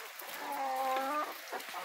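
Embrapa 051 chickens cluck close by while being fed, giving a short burst of several tonal calls that rise briefly and then fade, with no talking.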